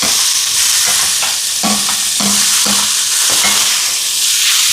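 Garlic paste sautéing in a pan for chicken curry, a loud, close hiss of frying with a run of short scraping strokes from a spatula at an uneven rhythm.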